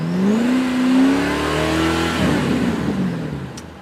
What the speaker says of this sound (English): Get that Nissan revving.